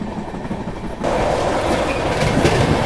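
Purushottam Express, a Puri to Anand Vihar train on the Delhi line near Aligarh, running at about 130 km/h, with a loud steady rumble and wheel noise on the rails that swells to a fuller roar partway through.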